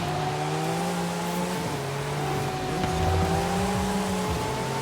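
A Porsche 935 race car drives in Forza Horizon 5, its engine holding a steady mid-pitched drone that dips briefly with a gear change and rises again, continuous and fairly close, with no talk.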